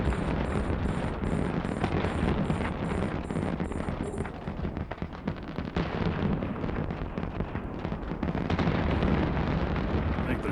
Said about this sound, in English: I think they're shooting me with fireworks.